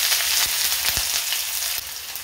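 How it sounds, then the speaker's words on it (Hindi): Finely chopped onion with ajwain sizzles steadily in about a tablespoon of hot oil, a dense continuous crackle with a few soft stirring knocks, no voices. "अब प्याज को अच्छे से भून लेंगे।"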